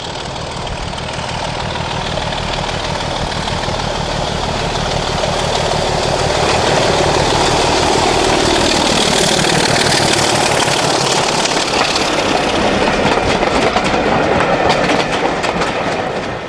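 Heritage diesel locomotive D5054 works hard near Ramsbottom at the July 2008 East Lancashire Railway gala, a loud, close engine roar over rhythmic wheel clatter that builds as it passes and rumbles on.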